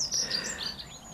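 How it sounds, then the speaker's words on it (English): Birds singing in a woodland sanctuary, with high bright chirps and short trilling phrases overlapping against a quiet airy background, moderately close. "It's now filled with birds and the sound of birds."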